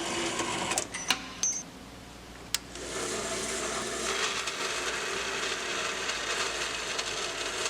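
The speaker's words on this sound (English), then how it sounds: "So we'll just bring those over to the vertical bandsaw and cut through those miters pretty quick." Vertical bandsaw without a lower blade guide cutting through mitered pieces in a workshop, a few sharp clicks and knocks giving way to a steady whirring cut that carries on at moderate loudness.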